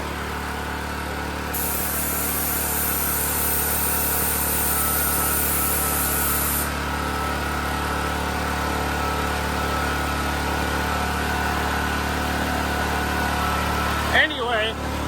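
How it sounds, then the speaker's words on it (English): An air compressor runs with a steady low mechanical drone throughout, a brief hissing burst early on, and a short knock near the end. "I think this compressor is full now."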